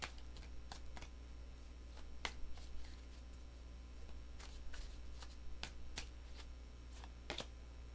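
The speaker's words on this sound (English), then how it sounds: "Three shuffles." Tarot cards riffle and flick in quick, soft bursts, close by and quiet, with irregular taps and slides between the shuffles.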